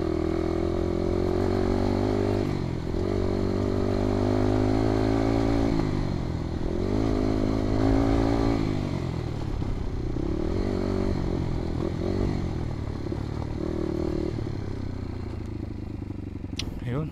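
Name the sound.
motorcycle engine revving to fuel the carburetor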